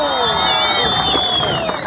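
A crowd applauds and cheers at a children's silleteritos parade, a dense roar of clapping with whoops and a high whistle-like tone over it, loud and sustained.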